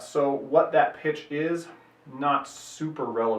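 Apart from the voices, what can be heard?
No everyday noise stands out behind the speech.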